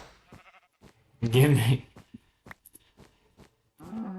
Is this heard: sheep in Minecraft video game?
yes